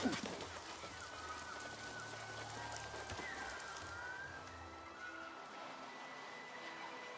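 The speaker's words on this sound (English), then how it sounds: "It's raining." Steady rain falls in the New World video game's jungle area, a continuous hiss running through the whole stretch at moderate level, with a few faint tonal game sounds on top.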